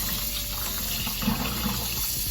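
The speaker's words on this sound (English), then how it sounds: "Put in the cool water" Steady rush of cool water pouring from a tap into a bowl, continuous and close, with no voices.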